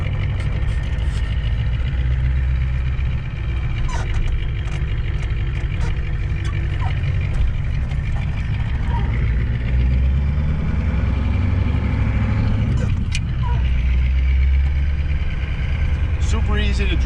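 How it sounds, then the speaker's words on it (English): A 7.3 IDI turbo diesel truck engine drones steadily while driving, a continuous low rumble with road noise throughout and brief higher-pitched rises. "But if you give it a little throttle, of course you can hear the turbo."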